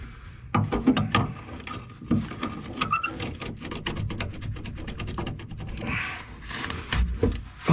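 Ratchet wrench loosening a stubborn shackle bolt on a Chevrolet Silverado, a close, steady series of rapid clicking strokes with brief pauses between runs.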